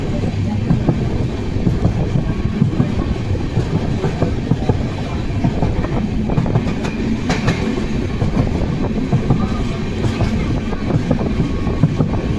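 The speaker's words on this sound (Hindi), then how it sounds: "अब अपनी ट्रेन पहुंच चुकी है अलीगढ़ जंक्शन" An Amrit Bharat Express train pulls into Aligarh Junction, heard from on board as a continuous loud low rumble with faint clattering of the wheels and some wind buffeting on the microphone.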